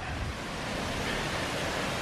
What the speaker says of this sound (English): And there is the waterfall on the side of the road.